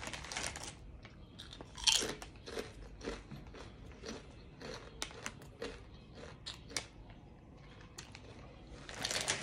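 Tangy ketchup-flavored Doritos chips crunched and chewed up close, a steady run of sharp crisp bites and munching over about nine seconds, with no talking.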